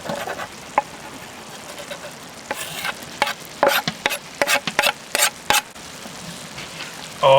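Garlic hits a pan already frying onion and shrimp for a navy-style pasta, giving a moderate sizzle broken by a run of sharp spatula scrapes and clacks from stirring, with no talking.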